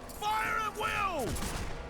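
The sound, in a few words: musket volley gunfire in Warhammer: Mark of Chaos video game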